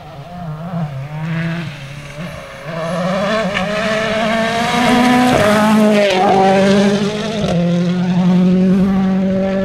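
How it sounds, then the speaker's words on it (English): A 2-litre Ford Fiesta World Rally car screams along a rally stage, its loud engine note rising and falling through sharp gear changes and revs, close and dominant throughout. "It's a 2-litre Fiesta World Rally car."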